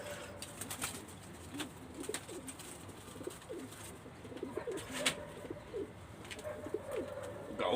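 Pigeons coo repeatedly in soft, rolling phrases close by, with occasional faint chirps and sharper clicks over a steady background hiss; no one speaks.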